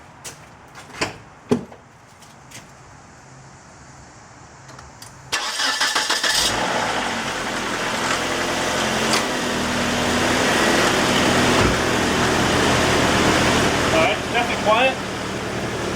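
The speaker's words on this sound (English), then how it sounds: "Let's give it a start, put on the AC and see what we get." A 1997 Nissan Altima engine cranks and catches after a few quiet clicks, then settles into a steady loud idle with the air conditioning running, a broad hum and hiss continuing throughout.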